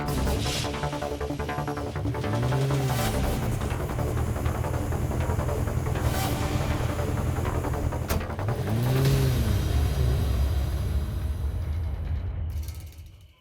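A car is driven out with its engine revving, loud and close, two rising rev sweeps over a steady idling rumble, mechanical clicks and a few sharp knocks before the engine cuts off at the end.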